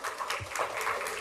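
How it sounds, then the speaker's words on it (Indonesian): Steady audience applause fills the hall at a provincial language ambassador crowning ceremony in Maluku, dense clapping sustained and fairly loud throughout without voices. "Kita kasih tepuk tangan sekali lagi"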